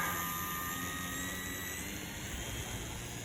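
An RC aircraft engine runs at a steady high whine, close and loud, with no talking over it.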